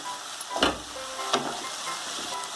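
Ash gourd and moong dal curry with turmeric and green chilli cooks in a pan, giving a quiet sizzle with two brief louder stirring bursts over a low steady frying hiss.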